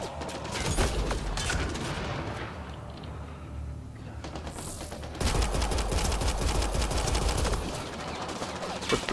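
Pistol gunfire in the Mass Effect: Andromeda video game, a dense run of sharp shots with heavy thumps, continuing through the clip and swelling louder in the second half.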